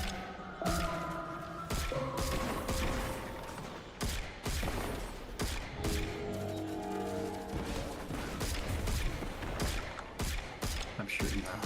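Rapid bursts of gunfire from a Destiny 2 raid fight crackle almost nonstop, loud and close, mixed with thuds and heavy impacts while players talk over the shooting.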